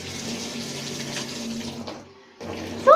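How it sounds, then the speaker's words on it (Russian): Hot water runs steadily from a tap into a sink after a dog walk, a broad continuous splashing rush that cuts off briefly near the end before resuming. "Сейчас после прогулки горячую воду включу."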